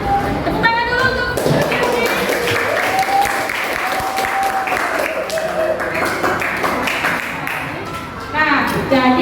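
Audience applause during a teaching practice session at Universitas Muhammadiyah Sumatera Utara, a sustained wash of clapping lasting throughout with a few sharper taps, moderately loud.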